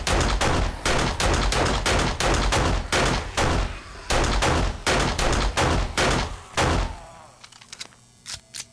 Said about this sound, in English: Could take a couple pot shots.